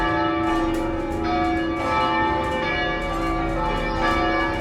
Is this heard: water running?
no